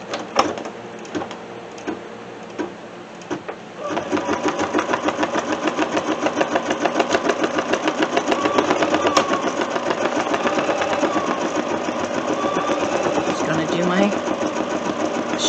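An embroidery machine runs the placement stitch for a coffee cup cozy made in the hoop. After a few soft handling knocks, a fast, even mechanical stitching rhythm starts and continues close and loud to the end.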